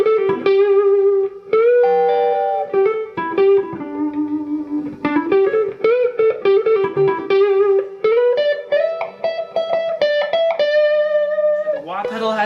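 Electric guitar played through a Holy Grail reverb pedal in an effects loop, a clean melodic line of sustained notes with a lush reverb tail, loud and alone.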